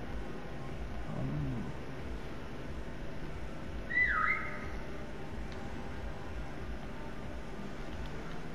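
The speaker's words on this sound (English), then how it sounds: "I heard a whistle right now." A brief rising whistle sounds once at mid-distance over a steady low ambient rumble on a map in Call of Duty: Black Ops Cold War, with no voices.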